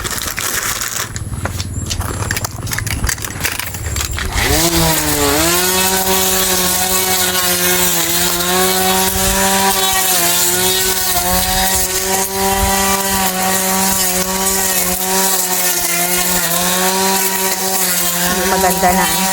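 A grass cutter runs steadily for most of the clip while clearing dense, overgrown grass, its engine whine loud and close and holding a sustained pitch after starting up a few seconds in.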